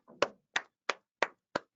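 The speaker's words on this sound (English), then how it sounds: "I'm clapping for myself." A person claps their own hands during an online webinar, five sharp, evenly spaced claps, close and distinct against silence.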